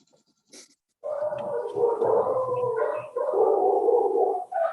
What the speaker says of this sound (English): Oh, we've got some dogs singing.